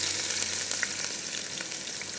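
Chopped onions frying in oil, a steady close sizzle with small crackles and pops running throughout, no voices.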